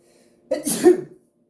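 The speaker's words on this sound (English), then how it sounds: "I'm going to sneeze." A single loud, close sneeze bursts out of silence, a sharp explosive blast with a brief throaty tail.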